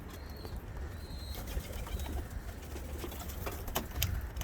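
Pigeons coo softly in a breeding aviary, low murmuring calls under a steady rustle with a few faint wing flutters and distant chirps.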